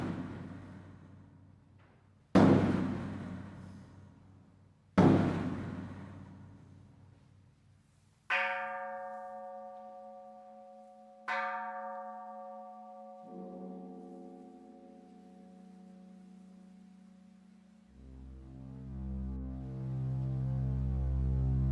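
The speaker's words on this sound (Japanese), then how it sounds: "時を告げる太鼓と鐘が鳴り、暁の座禅が始まる。" Time-telling drum and temple bell at a Zen temple before dawn: several deep, separate booming strikes spaced a few seconds apart, followed by long ringing bell tones that decay slowly into a sustained low hum.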